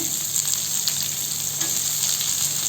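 Two medium onions, chopped small, sauté in a pan with a steady, close hiss of frying and faint crackles throughout, with no voices.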